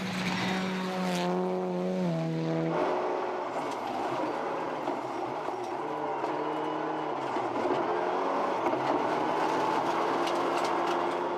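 A rally car running flat out on the gravel stage roads of Rally Otago, its engine climbing through rising and shifting tones in a steady, moderately distant drone.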